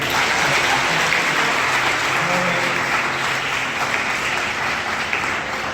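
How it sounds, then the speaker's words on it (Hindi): Audience applause fills a university seminar hall at MMV, Banaras Hindu University, for someone speaker, a dense and steady wash of clapping that holds at an even level throughout. "मैम के लिए जोरदार तालियां बजाइए"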